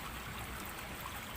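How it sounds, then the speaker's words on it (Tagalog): Freshwater springs flowing from a sandy bank into the sea, a steady close trickling and gurgling of running water with no voices. "5 bukal ng tubig ang umaagos mula dito sa Pangpang"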